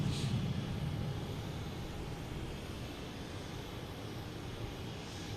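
A Spirit Airlines jet takes off from Boston Logan bound for Detroit. It makes a broad, steady engine roar at moderate distance, holding level for several seconds with no talk over it.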